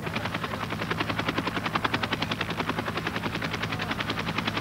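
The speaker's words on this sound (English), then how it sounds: "A smaller helicopter is dispatched to the area so crucial supplies can be lowered" A helicopter flies over jungle on a supply drop, its rotor beating in a fast, steady chopping rhythm that stays loud and fairly close throughout.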